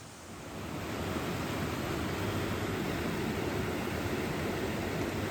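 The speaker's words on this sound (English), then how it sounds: "Lots of roaring rapids" A larger mountain creek with roaring rapids near Fifth Water Hot Springs in Utah gives a dense, constant rushing roar that swells in during the first second and then holds steady and loud, with no talking.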